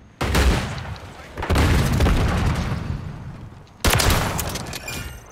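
Loud, close bursts of automatic gunfire in Call of Duty Modern Warfare 3: three heavy volleys, the middle one sustained, separated by short gaps, with game effects ringing underneath.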